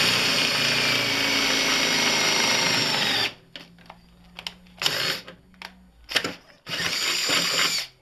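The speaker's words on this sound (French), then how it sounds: "ensuite on fait le trou final, là, voilà, et hop, on perce" A power drill bores a 10 mm hole with a steady whirring hum for about three seconds. It then gives several short bursts with brief pauses between them.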